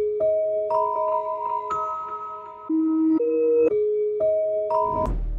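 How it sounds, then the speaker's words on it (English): A reversed, chopped melodic sample in FL Studio steps through sustained bell-like tones, then ends in a short glitchy burst of distorted noise. "Just a little glitchy effect at the end of the at the end of every second bar of the sample."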